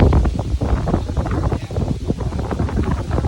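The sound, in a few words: wind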